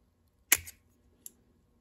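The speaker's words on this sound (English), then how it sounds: "Now you want to put on your clip." A snapping click as a clip is pushed onto a Shimano 400FF bicycle derailleur during a rebuild, one sharp snap followed by a fainter tick about three quarters of a second later, close and otherwise quiet.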